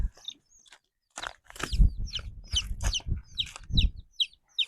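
Chickens and chicks cluck and peep in quick, irregular bursts close by, with soft scratching and shuffling noises underneath, in a hillside village.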